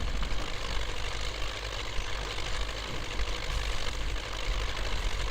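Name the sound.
MTZ 82.1 tractor engine idling, video game Spintires: Mudrunner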